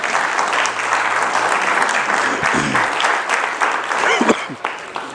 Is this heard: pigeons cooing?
no